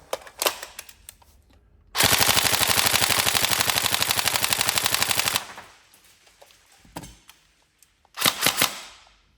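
A Tokyo Marui M4 CQBR airsoft gun test-fired on full auto: a few sharp single shots, then a long rapid mechanical burst lasting about three seconds, a few more clicks and a short final burst, loud and close.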